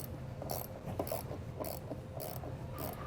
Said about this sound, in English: we're gonna grab a T25 Torx bit to remove the fastener that's located behind here